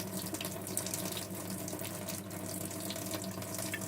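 Water runs steadily from a tap, a continuous hiss and splash that is fairly faint and unbroken, with no talking.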